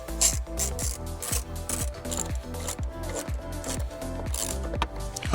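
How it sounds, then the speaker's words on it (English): A ratchet tightens two 10mm bolts during a radio install in a 2019–2023 Chevrolet Silverado or GMC Sierra, a rapid, steady clicking of the pawl that continues up close throughout. "We'll put our two 10mm bolts back in place."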